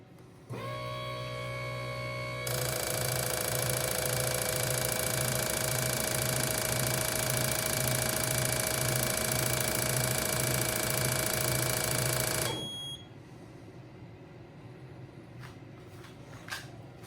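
A fuel injector flow test machine runs a ten-second test on Ford injectors, giving a loud, steady mechanical whir and hum that starts abruptly, holds evenly for about ten seconds, then cuts off into quieter room noise.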